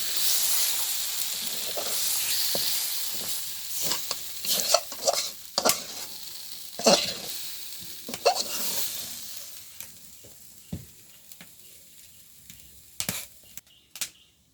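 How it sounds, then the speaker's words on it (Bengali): Vegetables fry in a kadai (wok) with a close, loud sizzle broken by repeated spatula scrapes and stirring clatters. The hiss quiets partway through, leaving sparser stirring knocks at the end. "কহি ভাজি বসাই দিলাম কড়াইতে"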